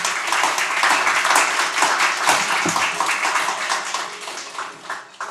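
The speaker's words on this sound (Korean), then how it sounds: "박수 부탁드립니다" An audience at an award ceremony applauds, the dense clapping holding steady for several seconds and then thinning out toward the end.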